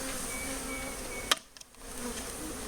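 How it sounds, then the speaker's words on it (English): Package bees being dumped out of their shipping box during a hive install: a constant buzzing hum, broken by a sharp knock and a brief dip before the buzzing swells back. "She's gonna dump the bees out."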